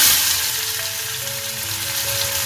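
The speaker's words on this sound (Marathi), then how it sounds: "कढईमध्ये तेल तापत ठेवलंय आणि आई आता फोडणी द्यायला घेते आई काय टाकते फोडणीला ना हा अख्खा गरम मसाला टाकते आणि हा कांदा घालते" Onion and whole garam masala sizzle steadily in hot oil in a kadai, a continuous close frying hiss with faint stirring and a few brief tonal hums in the background, no voices.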